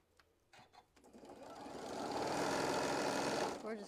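A sewing machine stitches down the nested seams of a quilt block, starting with a few soft clicks and then building into a steady, close whir that runs for a few seconds.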